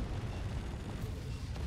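Explosions rumble during a space ship battle in the Fractured Space video game, a dense, continuous low booming wash with no distinct separate blasts and no talk.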